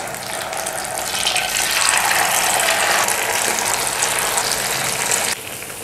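Tenderized beef boti pieces sizzle loudly in hot oil over a high flame, a dense, continuous crackling hiss that drops off slightly near the end.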